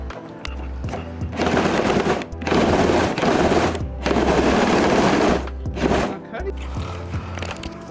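A power tool cuts through a carbon fiber car hood in loud, sustained bursts, several long cutting runs separated by short pauses with a low hum between them.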